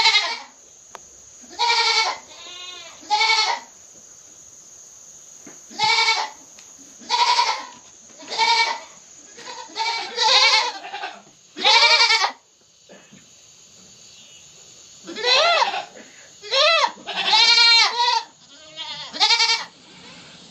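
Goats bleating loudly inside a barn, a rapid succession of strong, wavering calls from several animals, close and overlapping, with brief pauses and a constant high insect-like whine in the background.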